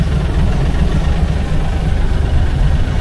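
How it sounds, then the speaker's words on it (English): A farm tractor's engine runs as it drives slowly forward, a loud, steady low rumble with constant vibration and no talking. "Let me drive the tractor forward a little bit now."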